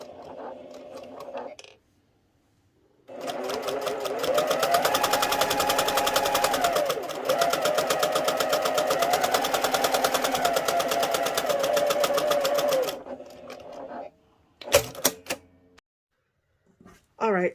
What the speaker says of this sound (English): we are going to place it right there and drop that down and just sew